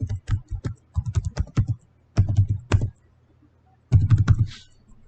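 Password typed on a computer keyboard: three bursts of rapid, close key clicks with short pauses between them, no voices.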